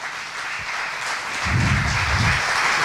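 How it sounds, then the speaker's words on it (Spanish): Applause swells midway through, a burst of clapping from a church congregation over a steady background hum, fairly close and moderately loud. "denle un aplauso a Dios"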